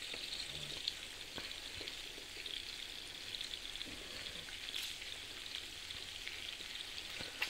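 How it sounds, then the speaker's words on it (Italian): Lamb browns in a frying pan with white wine, a soft steady sizzle and crackle with occasional small pops, faint and close. "lo facciamo rosolare dall'altra parte"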